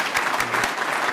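Loud, dense audience applause fills a closing keynote hall at the MaRS Innovation Summit, steady sustained clapping with no gaps throughout.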